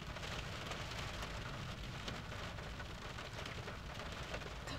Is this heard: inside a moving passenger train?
no